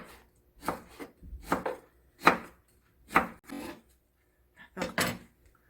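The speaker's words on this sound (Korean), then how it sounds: "자, 이제 하나씩 썰게요." A knife chops through burdock root on a cutting board, six or so distinct thunks in an uneven rhythm, close and fairly quiet.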